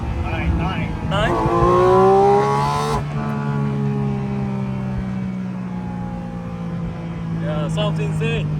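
Porsche Boxster Spyder RS (982) flat-six revving hard from inside the cabin, its note climbing steeply then dropping at a shift and droning on at steady speed, with people talking over it.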